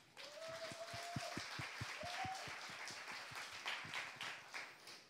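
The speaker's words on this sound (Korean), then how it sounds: "박수." A church congregation at a Saturday service breaks into applause, a steady run of claps at moderate distance that thins out toward the end, with a brief tonal sound near the start.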